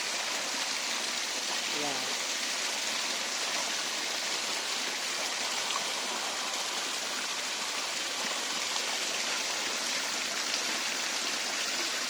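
A river flows steadily beside its bank in a natural outdoor setting, its broad continuous rushing holding even and fairly loud throughout without a break.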